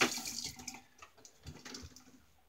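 A vintage Racine electric razor is rinsed under a running tap, with faint splashing water and a few light clicks and knocks, quiet and close.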